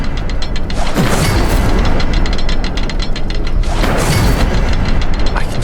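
The Incendio fire spell in Hogwarts Legacy on Xbox Series X is cast twice, each time a rising whoosh into a booming blast, over a loud, constant low rumble.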